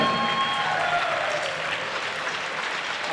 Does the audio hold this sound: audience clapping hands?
yes